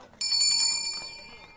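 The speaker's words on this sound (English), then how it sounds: "Shall I ring the bell?" A small bell in a dramatised reading of a Katherine Mansfield story is struck once and sharply, its bright metallic ringing fading gradually over about a second.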